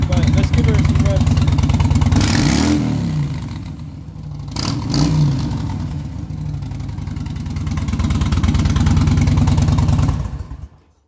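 A Harley-Davidson motorcycle with baffles removed from Vance and Hines exhausts idles loudly, then is revved twice in quick rising bursts before settling back and cutting off at the end.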